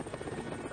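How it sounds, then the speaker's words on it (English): Helicopters lift Apollo astronauts from the Odyssey capsule after splashdown to the carrier Iwo Jima, a dense, steady rotor roar filling a brief moment with no voices. "Helicopters from the carrier Iwo Jima lifted the astronauts from Odyssey."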